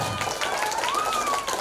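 An audience at a Quran-school khataman graduation ceremony for TPQ As-Salam in Ngebruk, Juwana, Pati applauds in a brief, even burst, with a thin whistle-like tone gliding over the clapping.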